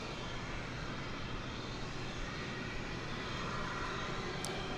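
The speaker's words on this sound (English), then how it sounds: "There's Delta Flight 984 going through your screen. It's off to Los Angeles." Delta Airbus A320 jet departing DFW Airport for Los Angeles, its engine roar a steady, fairly faint broadband rumble held at an even level throughout, with no voices.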